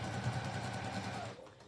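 A sewing machine stitches across a purse, its motor buzzing in a fast, even whir at low volume for a brief moment before easing off.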